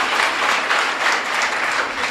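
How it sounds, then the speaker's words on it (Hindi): Audience applause at a Jain religious gathering honouring donors, a dense steady clapping that fills the short stretch without any voices. "आप सारे लोग जब तालियां बजाते हैं ना दानदाताओं के सम्मान में, तो बहुत अच्छे लगते हैं।"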